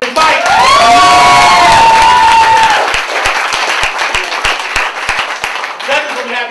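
Poetry slam audience in New York City bursting into loud applause, cheering and whoops, with a sustained shout at first giving way to scattered claps and crowd noise as a host's voice carries over it.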